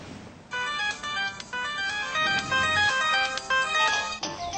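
An iPod ringtone rings in a repeating electronic melody of bright tones, moderately loud and close, lasting a few seconds with no speech over it.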